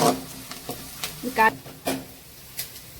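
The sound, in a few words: onions sautéing in pan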